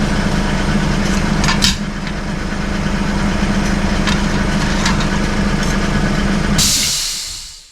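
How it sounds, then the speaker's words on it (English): An air compressor runs loudly and steadily up close with a constant droning hum, then cuts off near the end with a sharp hiss of released air as the motor winds down. "Just wait for the compressor to stop there."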